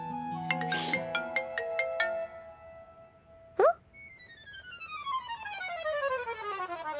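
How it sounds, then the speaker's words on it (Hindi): A mobile phone ringtone plays as a melodic run of repeated electronic tones, stops briefly after a short blip, then resumes with rising and falling synthesized notes, clear and close with no speech. "क्या ये मल्हार तुम्हें फोन करके कट क्यों कर रहा है?"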